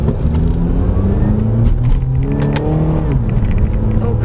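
A 2014 Honda Accord 2.4 sedan with a CVT accelerates at full throttle, heard from inside the cabin as a loud, steady engine drone whose pitch climbs smoothly, with a brief dip and rise near the end.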